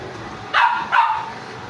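Two sharp dog barks in quick succession, fairly close, over a quiet background.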